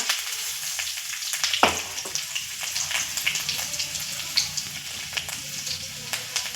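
Cumin seeds, crushed ginger and curry leaves crackle and sizzle in hot oil, a close, continuous frying hiss with scattered sharp pops and one louder spatter early on.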